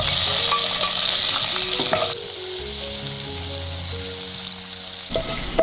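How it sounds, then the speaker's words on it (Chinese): Dried cuttlefish stir-frying in a little oil in a pan, a loud bright sizzle for the first two seconds that drops to a softer hiss under faint tonal sounds, then flares briefly again at the end. "水平锅加少许油，把墨鱼干放进来炒香。"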